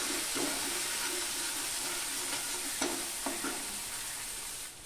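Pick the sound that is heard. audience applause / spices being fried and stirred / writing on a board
spices being fried and stirred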